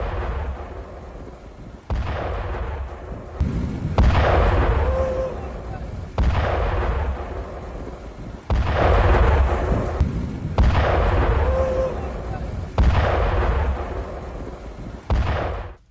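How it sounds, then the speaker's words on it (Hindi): Repeated heavy explosions after a US strike on Sirik, Iran, about seven loud booming blasts every two seconds or so, each with a rumbling decay and no talk over them. "सिरिक में हमले के बाद धमाके हुए हैं"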